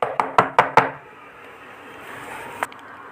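Loud knocking on a door late at night for a horror story: four quick, heavy raps, then a single fainter knock after a pause in a quiet, slightly reverberant room.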